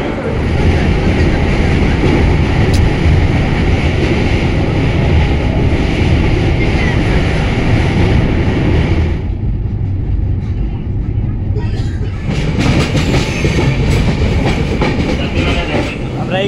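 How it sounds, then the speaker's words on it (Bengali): Dhauli Express pulling out from a station in India, heard from inside a chair car: a loud, steady rumble of wheels on rails with rolling clatter, the roar dipping briefly partway through and then resuming. "এবার ট্রেন ছেড়ে দিচ্ছে।"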